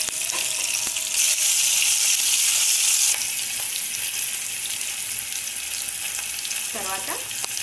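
Cumin and green chilli pieces fry in hot oil in a pan, a steady loud sizzle that holds throughout with a brief sharper burst partway in, no voices.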